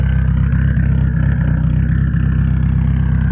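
A car's newly fitted motor runs close by with a loud, steady, throaty drone and an even pulsing beat throughout.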